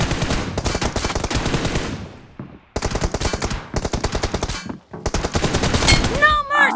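Rapid automatic gunfire in the PUBG/BGMI mobile game, loud dense bursts of shots with brief gaps, close and continuous for most of the stretch, ending with a short whistling effect.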